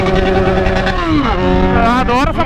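A motorcycle engine revs and accelerates, a steady loud growl with harmonics sweeping down and then climbing sharply near the end, with a voice speaking over it.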